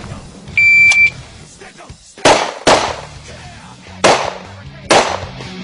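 An IPSC shot timer gives a sharp electronic start beep at a carbine match, followed by four loud, evenly spaced carbine shots close by, each with a brief echoing tail.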